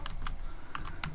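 Quick keystrokes on a computer keyboard while Python code is typed, a few crisp clicks in an uneven burst, close and clear with no talking.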